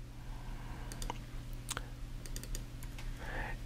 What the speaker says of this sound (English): I'm going to type in S for string